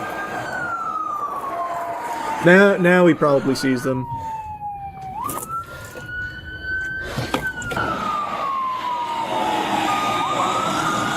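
A police car siren in a Roblox game wails steadily and then sweeps up and down in pitch, with a few short horn-like blasts near the start and someone talking over it.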